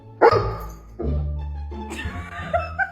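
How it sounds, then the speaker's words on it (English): A golden retriever at the front door of a home barks and whines in several loud close bursts, with short yips between them. "Her golden retriever was at the front door crying, thinking his owner left the house"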